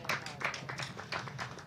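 A crowd claps at a women's domestic cricket match between The Blaze and Southern Vipers, giving a brief patter of scattered applause with a voice talking over it.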